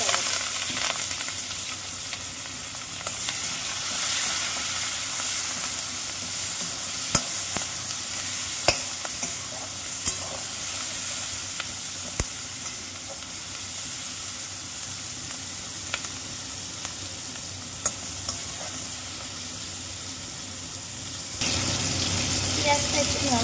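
Chopped onion and tomato dropped into hot oil tempered with nutmeg and bay leaf for a vegetarian soybean and potato khichuri, a loud, continuous close sizzle with scattered sharp pops and stirring, ending in a brighter burst of hiss.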